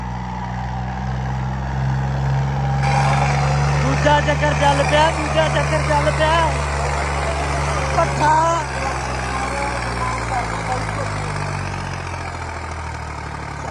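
A Swaraj 855 tractor engine runs with a loud steady low rumble throughout a rural tractor contest, while someone shouts excitedly over it.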